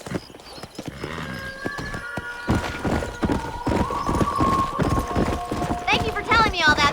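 Horse hooves clip-clop in the Red Dead Redemption video game, a run of quick, close hoofbeats with a horse whinnying, while characters talk over them and soft game music plays.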